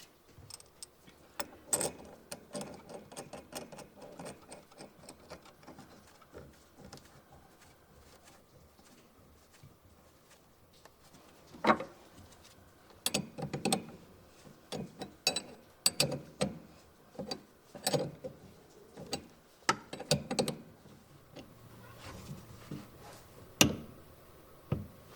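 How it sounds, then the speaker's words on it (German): A shock absorber bolt on a BMW E87/E81 is tightened with a cranked ring spanner and then a torque wrench, giving scattered metallic clicks and ratcheting taps over a long stretch, faint to moderately loud and close, with no speech. "Ich ziehe das mit einem gekröpften Ringschlüssel vor und dann mit dem Drehmomentschlüssel fest."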